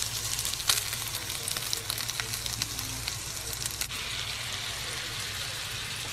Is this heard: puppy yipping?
no